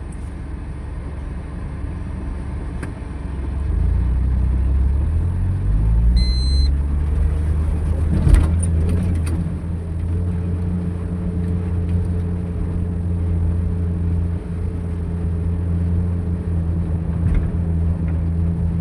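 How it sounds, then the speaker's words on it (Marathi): A car drives through deep flowing floodwater with its tyres fully submerged, giving a steady low engine rumble and churning water that swells partway through and holds close and loud to the end. "टायर आपली पूर्ण बुडलीत मित्रांनो निघाली निघाली"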